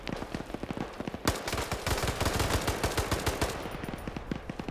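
Rapid gunfire trades back and forth in a trench warfare video game, dense bursts of automatic and single shots crackling continuously at close range with no talk.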